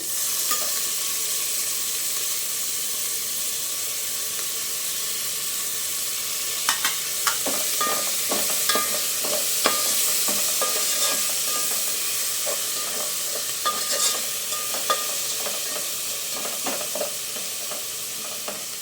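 Chopped coriander, mint, curry leaves and green chillies frying in hot oil while cooking mutton pulao: a steady close sizzle and hiss, with clusters of sharp crackles and stirring clicks partway through, no talk.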